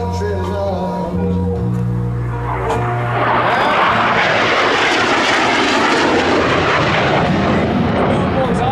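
A Harrier jump jet engine spooling up into a loud, steady roar that builds and holds, close by, with a voice talking over the start.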